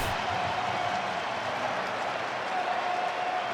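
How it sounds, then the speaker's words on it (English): Stadium crowd at a Dodgers vs Blue Jays Game 7 playoff baseball game cheering and applauding batter Addison Barger, a dense, steady roar of clapping and voices from a large audience. "Gets a great hand from this crowd"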